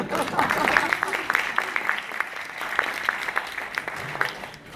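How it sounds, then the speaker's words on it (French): Audience applause at a television festival in Monte Carlo: a steady wash of many hands clapping, with sharp individual claps standing out, held at an even level throughout and fading slightly at the end. "On applaudit, on applaudit."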